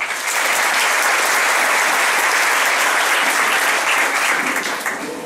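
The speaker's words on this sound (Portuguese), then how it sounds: "pedir uma salva de palmas" Strong, sustained applause from an audience of rural workers and family farmers at a union swearing-in ceremony, dense and even before tapering slightly at the end.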